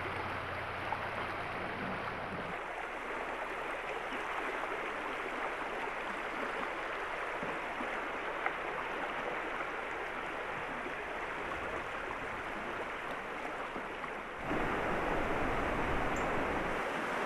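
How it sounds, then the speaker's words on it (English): Crystal River running over shallow riffles, a steady broadband rush of moving water heard up close and fairly soft, with a slight shift in tone near the end and no voices. "Right away, the river gets back to its riffly self."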